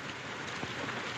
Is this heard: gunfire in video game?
no